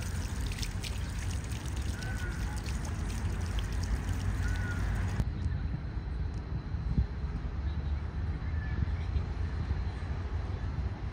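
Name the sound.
water trickling by a fountain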